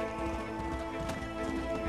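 Horse hooves clip-clop in steady rhythm in the video game Red Dead Redemption, close and continuous over a dense, rain-like game background.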